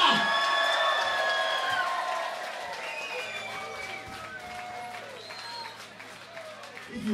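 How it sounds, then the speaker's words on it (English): An audience at a live band gig applauds and cheers in a steady wash of clapping and whoops. It starts loud and gradually eases off, with shouting voices and a faint sustained tone underneath. "Give them a round of applause, come on!"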